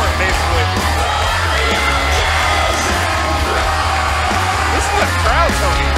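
A pro wrestling crowd at a live show yells, whoops and cheers loudly and continuously, a dense wall of voices with shouts rising out of the mix.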